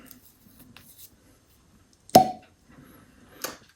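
A sharp, single pop comes from a real cork stopper pulled from a bottle of extra añejo tequila, followed by a softer squeak. The sound is close and quiet otherwise, with no talking.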